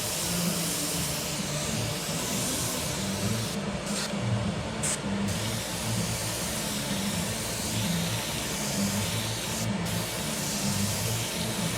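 An airbrush sprays paint in a steady, close hiss while shadows and overspray are laid on a painted tooth, continuous throughout with a few brief breaks in the airflow.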